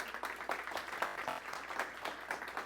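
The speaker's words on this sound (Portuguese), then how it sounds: "Uma salva de palmas também" An audience at a smart-cities panel event in Jaraguá do Sul claps for a visiting economic development secretary, a fairly soft, scattered round of applause heard from a distance without speech.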